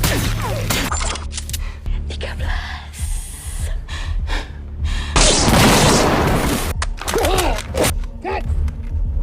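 Grenade explosions go off in an action film scene, with repeated loud booms and shattering bursts mixed with gasps, sharp impacts and scattered crashes across the scene.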